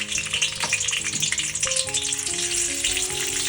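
Garlic and a cinnamon stick fry in hot oil in a pan for a plant-based abalone and potato curry, with a steady close sizzle, crackle and light stirring clatter.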